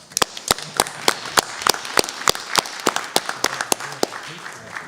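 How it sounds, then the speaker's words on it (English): A round of applause at a school district board meeting: sharp, irregular hand claps from a small group, loud and close, with faint voices underneath. "So I think Chad and Marlene deserve a big round of applause"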